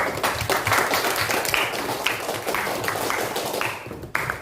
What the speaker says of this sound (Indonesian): Diberikan aplaus dulu untuk si Adha.